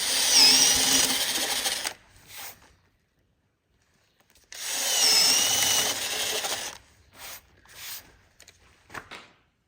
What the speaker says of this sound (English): as you drill through from the other side